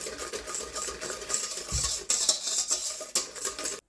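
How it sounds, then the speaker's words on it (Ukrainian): A whisk stirring yeast into a batter for a Christmas kalach, rapid close clinking and swishing against the bowl in quick bursts with brief pauses. "Тепер вливаю сюди дріжджі. І все також гарно вінчиком перемішаю."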